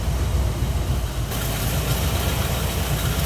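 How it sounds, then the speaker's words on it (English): A 1968 Ford Ranchero's 302 V8 with a new Edelbrock carburetor and intake idles steadily up close, a dense, even low rumble that holds unbroken throughout. "Nice sounding V8."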